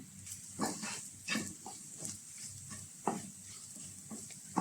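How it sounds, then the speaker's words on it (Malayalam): Chili, coriander and black pepper dry-roasting in a pan for a crab roast, a faint low crackle with intermittent soft scraping stirs, close by and without speech. "മുളകും മല്ലിയൊക്കെ ഒന്ന് മൂത്ത് വന്നതിന് ശേഷം കുരുമുളക് കൂടി ഇട്ട് കൊടുത്താൽ മതി"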